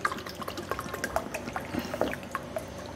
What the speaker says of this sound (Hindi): अब मैं डालने लगी हूँ इसके अंदर पानी